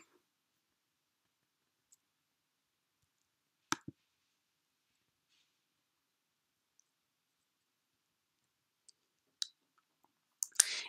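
Sparse, faint computer mouse clicks in a quiet room, a few isolated short clicks and a quick double click spaced several seconds apart, with near silence between them.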